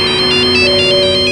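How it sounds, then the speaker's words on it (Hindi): An electronic phone ringing tone repeats in steady, evenly spaced pulses, loud and close, with no voices. "रीमा का फोन काहे नहीं लग रहा?"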